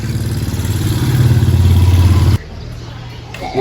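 A motorcycle engine runs loudly nearby, rumbling steadily and rising as it revs before dropping abruptly to a quieter idle.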